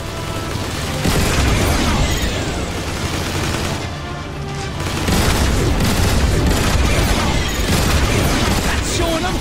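Turret gunfire and heavy explosions fill a Transformers: War for Cybertron battle defending Iacon, dense and loud throughout with rapid bursts and booms, dipping briefly near the middle before surging again.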